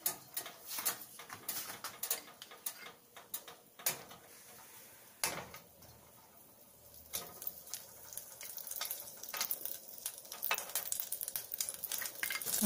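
Butter melts and sizzles in a pan after garlic has been sautéed, a quiet frying crackle broken by sharp clicks and clatters of utensils, with no voices.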